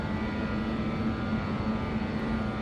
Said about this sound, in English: Starting to get that flap howl.